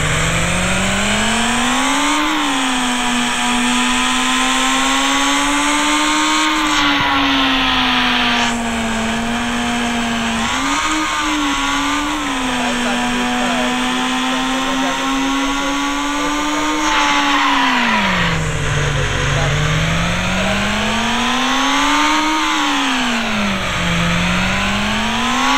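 A video-game motorbike in Indian Theft Auto revs continuously, its engine pitch rising and falling in repeated sweeps, loud and close with no talk over it.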